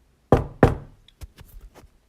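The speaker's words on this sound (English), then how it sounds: "someone knocked on my door" Two firm, loud knocks on a door at night, then a scatter of fainter taps and rattles.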